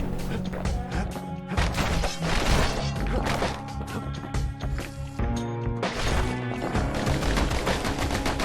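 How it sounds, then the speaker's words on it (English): Pistols fire in the action video game Bastion as rapid shots and impacts over a loud game music score, dense and continuous throughout. "Grab my pistols."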